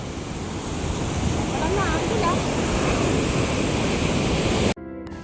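Steady roar of sea waves breaking at Azhithala beach near Nileshwaram, a broad continuous wash with wind noise that cuts off abruptly near the end.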